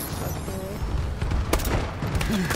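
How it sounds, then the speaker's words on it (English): Enemy bombing run in Call of Duty Advanced Warfare, heard as a scatter of muffled blasts and a sharp burst midway, with game noise and some voice activity running throughout. "that was a non-friendly bombing run"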